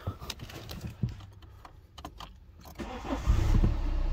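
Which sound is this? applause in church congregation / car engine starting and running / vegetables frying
car engine starting and running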